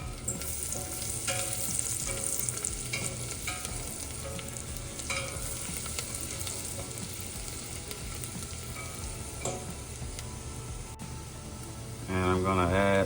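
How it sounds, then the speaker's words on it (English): Garlic cloves sautéing in a pan for a parmesan pasta sauce give a steady, close, even sizzle throughout, with a brief louder burst near the end. "we're just gonna saute this for like 30 seconds"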